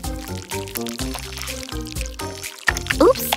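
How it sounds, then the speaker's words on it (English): Jam slides out of a jar onto a stack of pancakes in a few short, wet pours and gloppy plops, heard up close under a loud, beat-driven music track. "I'll carefully pour the jam over."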